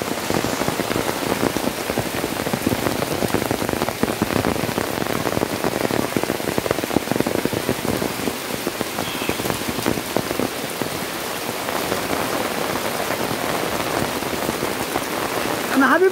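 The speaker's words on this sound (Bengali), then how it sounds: "প্রচুর বৃষ্টি হচ্ছে" Heavy rain falls at a village house, a loud, dense patter of drops striking surfaces with sharp individual splashes over a constant wash, steady and close throughout.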